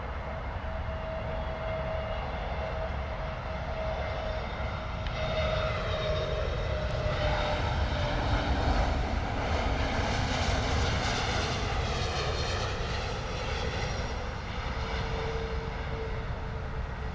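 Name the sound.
Iberia Airbus A320neo landing at London Heathrow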